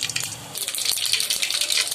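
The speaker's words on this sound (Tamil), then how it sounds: "இப்போ எண்ணெய் சூடாகணுன்னே நம்ம கடுகு உளுந்து பருப்பை சேர்த்துக்கலாம்." Mustard seeds and urad dal crackle and sizzle in hot oil for rava upma, a dense, steady hiss that stays close and fairly loud throughout, with no talking.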